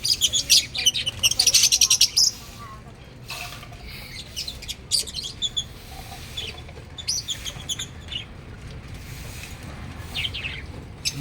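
Pet birds kept as a pair chirp in rapid bursts of high, bright tweets that are loudest at the start and then continue intermittently in the background while a person talks.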